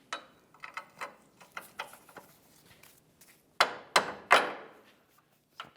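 Metal mallet taps drive a control arm mounting bolt home through the rear of a 2002-2007 Chevrolet front left lower control arm, starting as light scattered knocks and ending in three louder, ringing blows close by.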